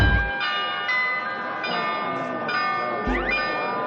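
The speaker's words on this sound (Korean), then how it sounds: "시청사에서 청량한 종소리가 울려 퍼집니다." Bells ring out from the Munich town hall on Marienplatz, several clear, bright strikes with long ringing tones that overlap and decay, heard from the square with no talk.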